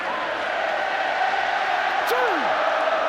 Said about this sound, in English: They're chanting the Rhinos.